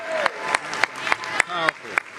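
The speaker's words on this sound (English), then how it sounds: "Let me get one more round of applause for my brother John for sharing his story." Audience applause at a New York City mayoral press event on heat protections for workers, a round for a man named John after he shares his story; sparse, distinct claps ring out in a steady rhythm with faint talk underneath.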